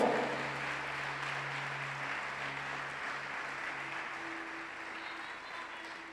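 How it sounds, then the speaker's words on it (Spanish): A church congregation applauds faintly and steadily in the background, with a low sustained tone running underneath. "Dale ese aplauso a Dios."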